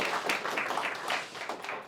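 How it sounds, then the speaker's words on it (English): An audience applauds at the start of a talk on feedback culture, a brief burst of dense, steady clapping at moderate volume. "So applause at the beginning."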